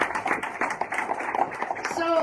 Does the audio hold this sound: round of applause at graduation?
yes